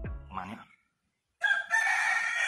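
A chicken in Thailand said to survive without its head gives a brief, strident crow near the end, loud and close, after a short silence that follows an earlier cry.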